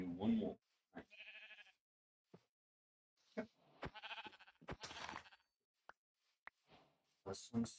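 Sheep bleating in Minecraft VR, a few short game bleats scattered among clicks and brief bursts of player speech.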